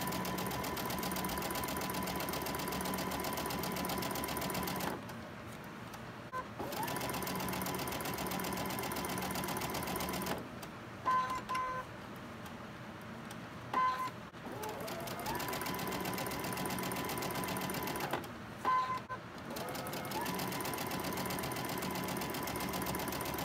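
A sewing machine stitching fabric for a Christmas table runner hums steadily in long runs close by. It pauses several times, with a few small clicks in between.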